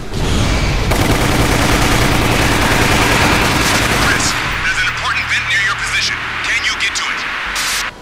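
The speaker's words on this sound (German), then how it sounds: "Aber ich meine, es ist die Pistole." Gunfire from a pistol in the Resident Evil: The Umbrella Chronicles video game, a dense, loud burst of shots packed with game noise for several seconds that thins out into scattered, quieter sounds with talking over it.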